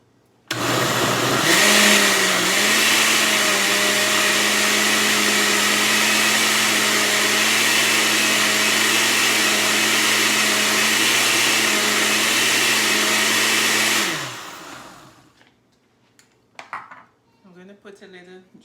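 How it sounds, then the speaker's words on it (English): A countertop blender whirs mango and pineapple into juice: a loud, steady motor drone that runs unbroken for about fourteen seconds, then cuts out, leaving a few faint clinks and small noises. "Okay guys, so I'm gonna be blending."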